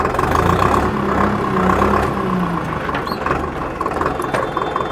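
A Digitrac PP 46i tractor engine runs steadily at a low, constant drone, loud and close throughout, with no speech.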